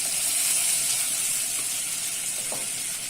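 Butter melting in a saucepan for béchamel sauce gives a steady, fairly loud sizzle and hiss that carries on without a break.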